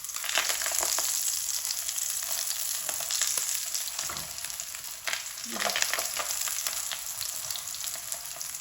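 Lentil snacks frying in hot oil over low heat, a steady dense bubbling sizzle close by, with faint stirring scrapes partway through.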